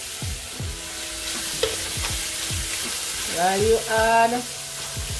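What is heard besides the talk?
stirring chicken chow mein sizzling in a pan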